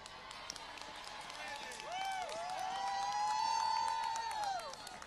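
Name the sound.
rally crowd applauding and cheering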